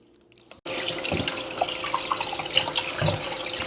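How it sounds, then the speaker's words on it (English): After a brief quiet moment, a kitchen tap gushes on while fish is washed, a steady close splashing stream with scattered drips and clatter. "wash it, drain out the water, excess water, whatever is there."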